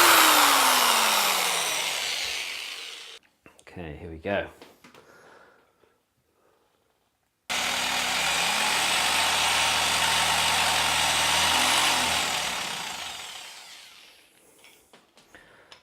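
Power drill spinning a device, a loud whirring motor that runs for a few seconds, stops amid clatter, then starts again with a steady high-pitched buzz and winds down; a voice speaks briefly before it starts.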